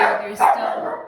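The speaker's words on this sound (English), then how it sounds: "that's my dog" A dog gives a single short, loud bark up close, with a person talking just before it.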